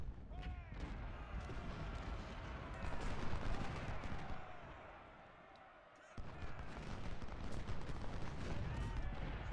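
Cannon and musket volleys crash through a Civil War battle in Ultimate General: Civil War at Nashville, dense overlapping gunfire and booming artillery rolling continuously, easing briefly before resuming loud.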